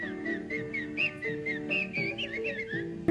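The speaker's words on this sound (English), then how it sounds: "And they're whistling." Whistling performance by the 1956 Eurovision intro act, a group of whistlers carrying a wavering, continuous melody over a backing band, steady and fairly prominent throughout with no talking.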